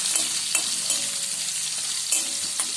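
Onions frying in a pan crackle and sizzle close up, with a few sharp spatula scrapes knocking through a steady bright hiss.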